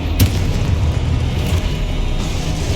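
A Confringo explosion spell in Hogwarts Legacy, heard as a sharp booming burst near the start, followed by a steady dense rumble of game action and effects.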